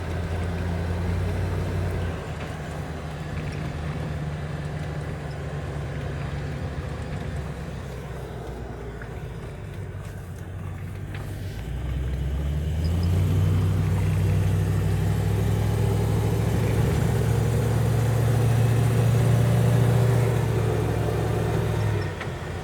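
Car cruising along a road at about 60 km/h on the way to a beach, a steady low engine and road rumble that swells louder partway through, continuous and close, no talk.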